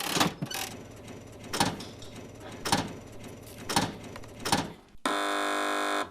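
Several rhythmic thumping hits build up, then a loud, steady electronic buzzer blares for about a second, a quiz show buzzer on a TV panel show.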